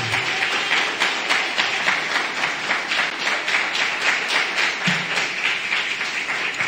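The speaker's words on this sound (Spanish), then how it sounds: "denle un aplauso al Señor" A church congregation claps in steady, rhythmic unison during a Spanish-language service, loud and sustained with regular beats throughout and no talk over it.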